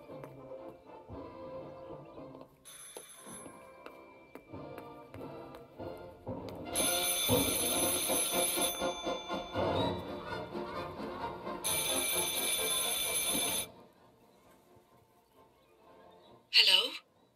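An old telephone rings in the horror game Martha Is Dead, two loud sustained ring bursts separated by a pause over quiet ambience, with a faint chime at the very end.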